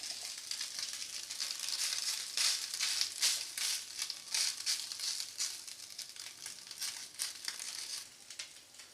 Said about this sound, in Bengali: দু পিঠ ভালো করে ভেজে নেব